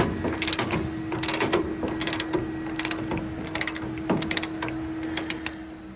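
A 3/4-inch drive ratchet with a 1 7/8 socket removing front slugs on a 1963.5 Ford Galaxie R Code, heard as quick bursts of close, crisp ratchet clicking over a steady mechanical hum.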